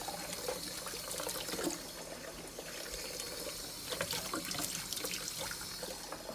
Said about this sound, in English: just rinsing off the leaves individually with cold water